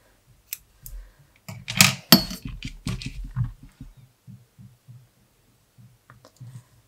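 Scissors snip through knitting yarn while finishing a crocheted Christmas tree: a cluster of close, crisp cutting clicks and rustles, then fainter soft handling taps.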